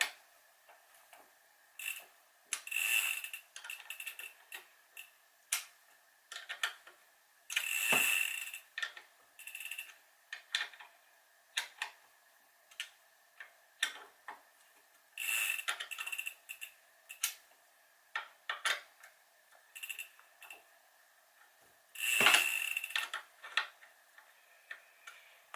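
Allen key ratcheting and clicking on bicycle crank pinch bolts, sharp close clicks in short irregular bursts separated by quiet gaps, with occasional louder metallic snaps.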